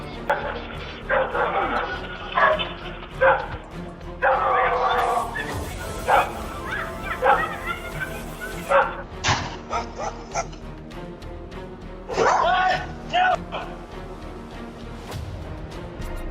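A guard dog barks and yips in short bursts caught on a security camera, fairly close and loud, with voices talking between and over the barks.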